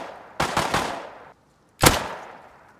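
Gunfire in the survival game Rust sounds in two loud bursts: a rapid string of several shots, then a short silence, then one sharp shot that rings out and decays, with no talking.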